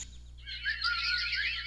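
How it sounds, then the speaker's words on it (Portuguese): Small birds chirping and twittering in a library sound effect, a quick busy run of bright high calls that begins after a short quiet moment and carries on densely, close and clear with no voices. "passarinhos."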